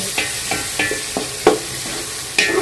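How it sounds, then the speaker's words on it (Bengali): Lemongrass frying in hot oil, cooked for fish, gives a steady sizzle with a run of stirring scrapes at regular intervals and one louder clack near the middle, close and with no voices. "লেমন গ্রাস এই লেমন গ্রাসটা দিলে মাছের অনেক সুন্দর একটা ফ্লেভার আছে খুবই মজা হয় এই তেলের সাথে এই কটা একটু ভাজব"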